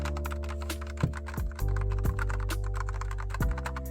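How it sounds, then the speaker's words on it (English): Hot Crystal low-profile switches on a Haute42/Cosmox P12 leverless controller being pressed in quick, soft, muted clacks with an uneven rhythm, close up, over a steady background hum. "uses hot crystal low profile switches. They have a really nice soft sound."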